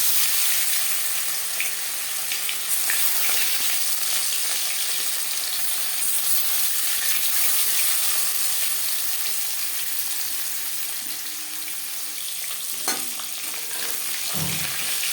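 Marinated silver carp pieces frying in refined oil, giving a continuous close, bright sizzle that holds steady for the whole stretch, with a few faint clinks near the end and no talking.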